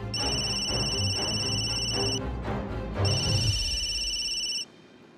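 An electronic phone ringback tone sounds in two long bursts separated by a short pause, steady and close, then cuts off abruptly.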